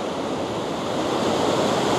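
Strong ocean surf breaks continuously on the beach at El Majahual, El Salvador, a loud, steady roar of crashing water with wind, and no voices.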